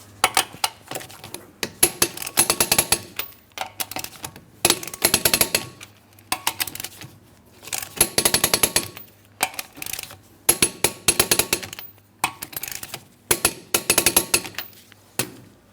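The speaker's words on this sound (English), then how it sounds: "Let's go ahead and torque these lug nuts to that 100 foot-pounds." A torque wrench tightens the lug nuts on the front wheel of a 2003-2007 Cadillac CTS, lowered back to the ground after a lower control arm and ball joint replacement. Close, repeated bursts of sharp metallic ratcheting clicks come in rhythmic spurts, separated by short pauses.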